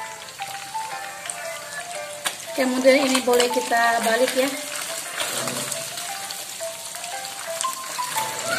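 Batter for crispy kremes topping frying in hot oil alongside catfish, a continuous close sizzle and bubbling that swells as more batter hits the oil, with someone speaking briefly over it.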